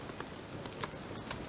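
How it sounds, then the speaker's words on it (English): Hail pattering down in the survival game Nightingale, a faint, even sprinkle of small impacts with a few sharper ticks scattered through it. "Oh, this is hail."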